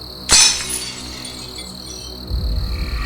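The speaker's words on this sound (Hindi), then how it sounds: "उसकी चीख सुनकर मेरे हाथ में पकड़ा चाय का कप मेरे हाथ से छूटकर नीचे" A teacup drops and shatters on a hard floor: one sharp, bright crash of breaking china, followed by a faint ringing tail and low background rumble.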